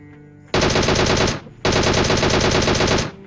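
Two sustained bursts of rapid automatic gunfire ring out loud and close in a video game, separated by a brief pause.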